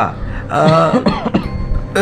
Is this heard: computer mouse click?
no